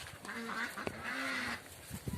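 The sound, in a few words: ducklings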